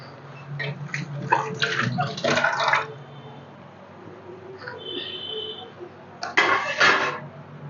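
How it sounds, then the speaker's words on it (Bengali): Water is poured into a cooking pot during preparation of a mixed three-ingredient dish, giving two splashing bursts with a quieter stretch between them, close by. "এবার আমি জলটা দিয়ে দেবো।"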